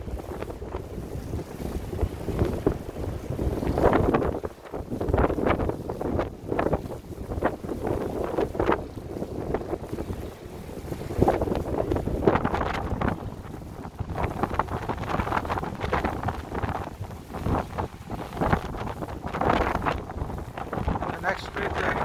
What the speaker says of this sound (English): Look how windy it is.